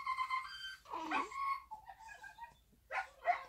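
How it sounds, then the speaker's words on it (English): Dog on a television giving a few short yips, whimpers and barks in separate bursts with quiet gaps between them, faint and thin as if coming from a TV speaker in a room. "That's a dog on the TV."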